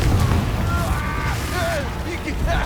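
A Confringo spell explosion in the video game Hogwarts Legacy, a dense booming blast with rumbling low end and whooshing magical tones, heard under a character's shouted voice and game music.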